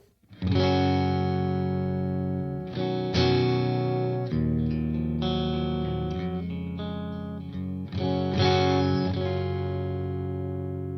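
An electric guitar played through a distorted Tiny V4 tube amp into a Torpedo, sustained crunchy chords ringing out one after another, loud and alone.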